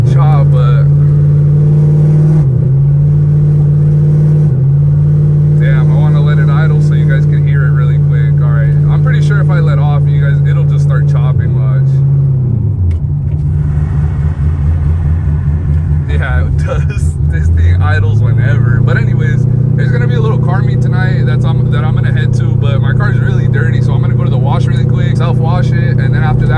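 Loud, close idle of a cammed Corvette V8 at a car meet, with a lumpy, uneven chop, rising briefly as it revs partway through before settling back to the choppy idle.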